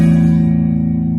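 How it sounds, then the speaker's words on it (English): Open sixth and fifth guitar strings struck together as a perfect fourth ring out in one loud, sustained low chord that decays slowly, with no talking. "that's the sound of a perfect fourth together."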